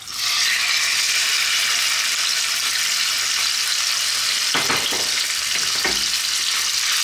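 Strips of pork frying in hot sunflower oil in a wok, a loud, steady, close sizzle throughout, with a few brief stirring clatters near the end.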